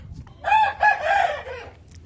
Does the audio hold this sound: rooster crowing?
yes